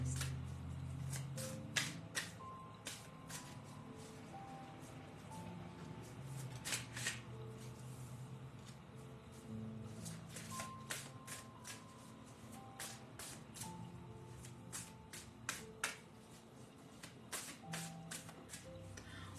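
Playing cards shuffled and riffled repeatedly in a steady series of crisp flutters and taps, close and fairly quiet, with no talking.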